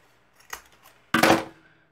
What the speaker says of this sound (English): you fold these in, and then you cut at an angle